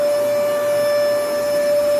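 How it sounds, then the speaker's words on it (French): A household vacuum cleaner runs steadily on a Sunday at home, a constant close whine with a sharp tonal hum and broad airy noise, unbroken and without talk. "on va passer l'aspirateur"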